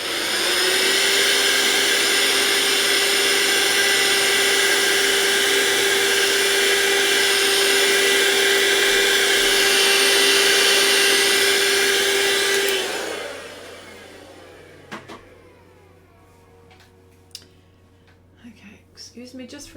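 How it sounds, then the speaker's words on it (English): A vacuum cleaner runs loud and steady with a constant tonal whine for about thirteen seconds, cleaning up during a pastel drawing session on Pastelmat board, then cuts off, leaving quiet room sounds and faint knocks. "Let me vacuum here first."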